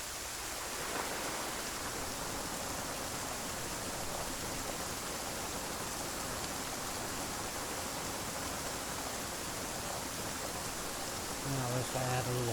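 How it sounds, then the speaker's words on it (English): Hard rain weather effect in a modded video game, a dense, even hiss of heavy rainfall that holds steady and fairly quiet throughout, with a brief low tone near the end. "Hard rain, and you see the rain density change on this."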